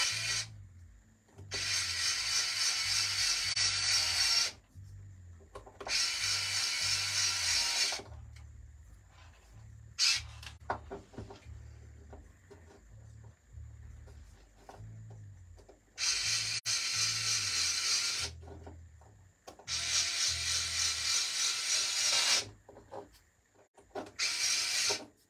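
Plastic cable ties being ratcheted tight while assembling a Genius GTC8E 2023 model, heard as four loud rasping bursts of a few seconds each, separated by short pauses over a low steady hum, with no talking.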